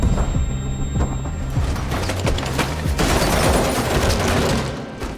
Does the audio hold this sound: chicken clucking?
no